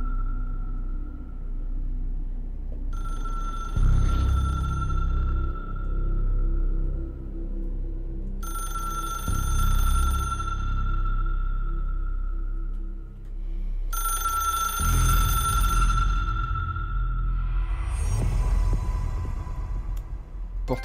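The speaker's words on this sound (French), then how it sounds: "Ah, téléphone rouge." The red telephone in the video game Control rings in repeated bursts, a bright electronic trill that sounds four times with pauses between, over a low ambient hum.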